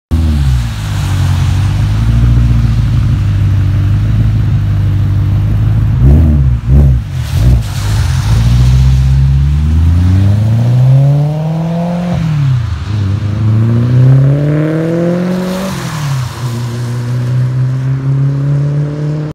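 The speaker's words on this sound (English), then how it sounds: "you'll be able to hear the exhaust in that one too." Supercharged 2008 BMW E92 M3 with an ESS Tuning supercharger pulling away, its exhaust droning loud and close with rising and falling revs through gear changes, no talk over it.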